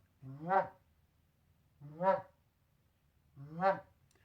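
Three short, clucking goose-call murmurs, evenly spaced with long pauses between them, close and moderately soft.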